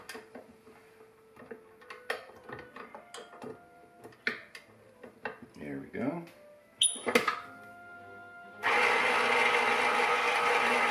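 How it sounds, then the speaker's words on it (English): Stand mixer churning a dough of white and rye flour, a steady loud whir starting partway through and running to the end, after a stretch of scattered knocks and clatter. "Now I'm going to mix it until it's just incorporated"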